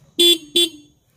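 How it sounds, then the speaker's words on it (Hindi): Two short, loud honks from the horn of a TVS Jupiter 125 scooter, a bright double beep with a brief gap between blasts, heard up close with no talking. "हॉर्न सुनिए इसका"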